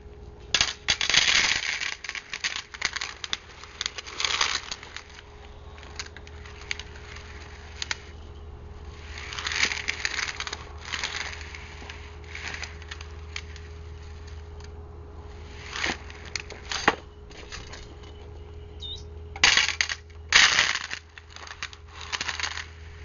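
A RIP series magnetic sweeper with its wheels set at a 3.5 inch height picks up 2.5 inch nails, giving scattered sharp metallic clinks and rattling bursts over a steady low hum.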